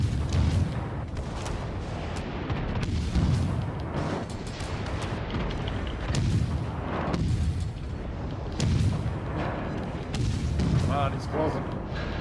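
Heavy naval guns in WoWs Legends fire on an enemy battleship in repeated deep booming salvos, each rolling out before the next, under steady excited talk from players.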